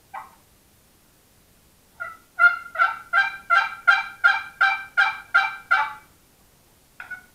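A handmade turkey box call with a dark walnut bottom and lid is scraped into a run of about ten loud, evenly spaced raspy yelps, with a few short single notes before and after.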